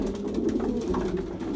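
Pigeons cooing steadily at close range in a loft where the birds are kept, a continuous low murmur of overlapping coos with no talking.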